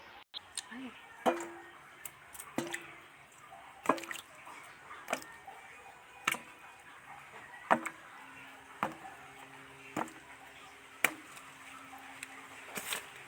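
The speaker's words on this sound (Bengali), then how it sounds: "পটলগুলো একটা একটা করে ভালো করে ধুয়ে নেব।" Pointed gourds (potol) washed one by one in water: intermittent splashes, drips and small knocks, close and quiet, with faint voices in the background.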